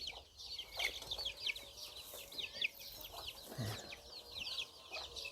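Hens clucking inside a wire-mesh chicken coop at a backyard garden farm, a steady chorus of overlapping clucks and chatter at moderate distance with no talk.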